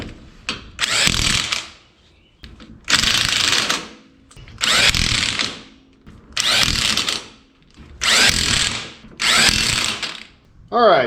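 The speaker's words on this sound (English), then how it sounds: "got everything tightened down with the impact" An impact wrench tightens excavator bucket teeth in six loud, evenly spaced bursts of rapid hammering, each lasting about a second with short pauses between them, close up.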